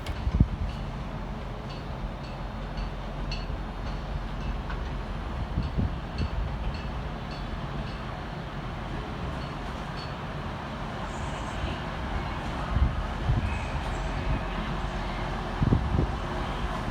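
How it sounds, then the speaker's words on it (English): Transpennine Express unit 185143 departs from the far side of Manchester Piccadilly during rush hour, a low rumbling diesel drone with occasional clanks, heard amid continuous busy station ambience. "Departing over on the far side is 185143 with the 1700 Transpennine Express service through to York."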